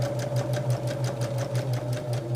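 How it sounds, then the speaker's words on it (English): A sewing machine stitches quilt half-square triangles with a quarter-inch seam, running steadily and close with a rapid, even mechanical rhythm and hum. "We're gonna take it to the machine. And again, I'm sewing a 1/4 inch"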